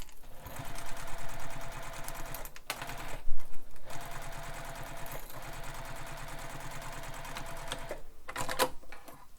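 A sewing machine stitches the corner of a fabric handbag in rapid, steady mechanical bursts, pausing briefly a few times between runs, close and clear with no talk.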